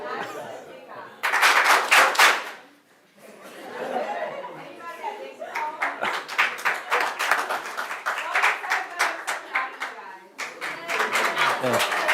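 A council meeting audience breaks into bursts of rhythmic clapping, sharp repeated claps in short groups, interspersed with crowd chatter and a speaking voice between the bursts.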